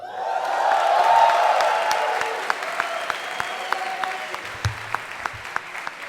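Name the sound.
audience applause and cheering for guitarist Jake Bowen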